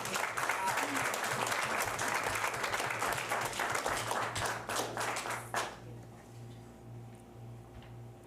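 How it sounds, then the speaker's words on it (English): An audience at a school board meeting applauds loudly for several seconds, then the clapping stops abruptly, leaving a quiet hum. "a huge round of applause"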